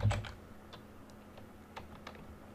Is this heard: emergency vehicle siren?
no